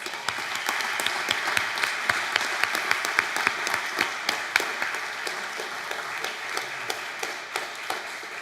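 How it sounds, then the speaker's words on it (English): A Sunday congregation at a Congregational church gives a round of applause, dense clapping from many people filling the room with a few sharper individual claps standing out, sustained for over eight seconds without speech on top. "Can we give them a round of applause?"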